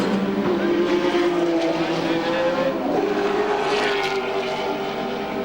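Race car pit stop at the 1991 Bathurst 1000, a loud, steady engine roar and whine with shifting pitch, heard close with background crowd and pit ruckus throughout.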